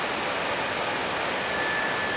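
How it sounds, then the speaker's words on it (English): An electric radiator fan fitted to a Honda CX500 motorcycle runs steadily, a close, even broadband whoosh of moving air with a faint high whine, holding constant with no voices. "now I'm just checking the direction of the fan motor"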